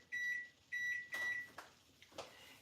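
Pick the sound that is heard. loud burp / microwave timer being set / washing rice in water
microwave timer being set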